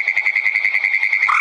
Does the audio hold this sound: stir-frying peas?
no